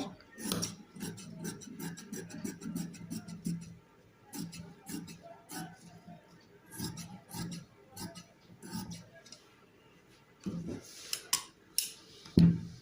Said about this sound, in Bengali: এখন আমি কামিজটি কেটে নেব